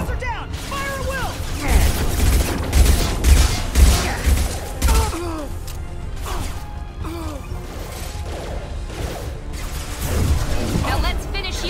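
Combat gunfire in Mass Effect 2, bursts of shots mixed with impacts, crashes and whooshes, heard under frequent shouted voices throughout.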